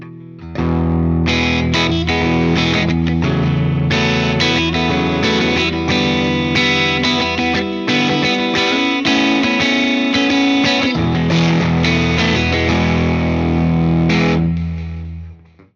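Electric guitar through the Mythic Drive overdrive on a Fender TMP, playing a steady run of crunchy chords and riffs, loud and close, with no talking.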